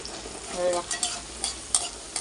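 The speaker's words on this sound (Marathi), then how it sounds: "लसूण टाकले तर लसूण व्यवस्थित भाजल्यावर मग मिरची टाकली" Crushed garlic and chopped green chilli frying in tempering oil for methi bhaji, a short bright sizzle with a few light scrapes from stirring, close and alone.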